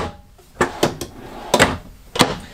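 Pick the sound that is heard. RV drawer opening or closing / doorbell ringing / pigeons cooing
RV drawer opening or closing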